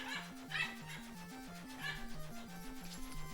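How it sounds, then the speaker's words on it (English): A dog yips and whimpers excitedly in faint, repeated bursts underneath a looping retro game soundtrack with a stepped, chiptune-style melody. "Dog is very excited about something."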